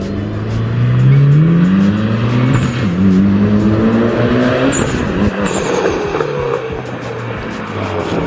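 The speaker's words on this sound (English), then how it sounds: "now it's just park the car again" A Mitsubishi Lancer Evolution X engine hums and revs up and down nearby as the car rolls slowly into a parking spot, with no one talking.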